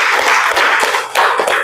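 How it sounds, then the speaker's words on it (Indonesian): Loud, dense applause fills a classroom as students clap together at close range, a steady burst of overlapping hand claps with no voices heard. "tepuk tangan untuk semuanya"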